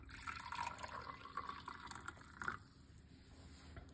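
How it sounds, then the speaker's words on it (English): Hot water from a kettle pours in a quiet, steady stream into a cup, with a faint gurgle and a small splash near the end. "I'm getting some hot water from my kettle."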